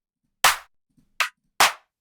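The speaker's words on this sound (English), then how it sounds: "Let's start kind of getting a clap on the go" A bright clap drum sample in a 4x4 UK garage beat hits three times in quick succession, crisp and dry with a short decay and nothing in between.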